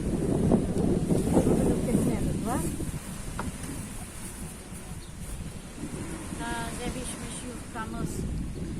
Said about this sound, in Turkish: Esiyor da çok güzel esiyor.